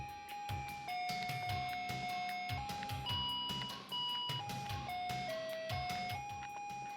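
A children's toy electric guitar with ten colourful keys plays a bright electronic melody, one clear stepped beep tone per key press, loud and close, with a short pause near the middle and no talking.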